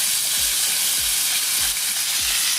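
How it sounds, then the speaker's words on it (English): A second batch of chicken strips fries in hot oil for orange chicken, a loud, steady close sizzle with bubbling crackle throughout, broken only by faint low thumps at a regular pace. "this is the second batch frying over here"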